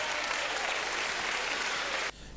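A football crowd claps in dense, steady applause, loud and sustained, then the clapping falls away sharply near the end.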